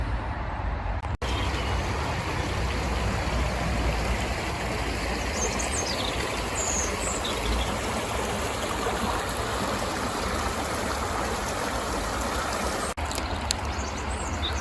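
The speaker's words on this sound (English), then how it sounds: "there's a bit of a waterfall here" Small waterfall on the River Blackwater, a steady broadband rush of falling water that runs unbroken and fairly loud throughout, close by, with no voices over it.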